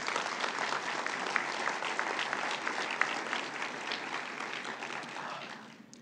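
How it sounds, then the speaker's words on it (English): Audience applause at a celebration event, a sustained, even wash of many hands clapping that holds steady and then fades out at the end, no voices over it. "she deserves a round of applause"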